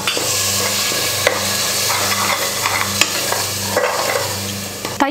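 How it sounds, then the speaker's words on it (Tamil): Masala powders frying in oil and stirred for Ambur chicken biryani, a steady close sizzle with repeated scraping strokes of a spoon against the pan, no voices. "இது எல்லாத்தையும் சேர்த்து 1 நிமிஷம் எண்ணெயில நல்லா வதக்குணும்"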